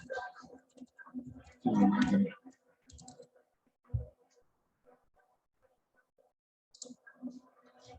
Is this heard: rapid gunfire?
no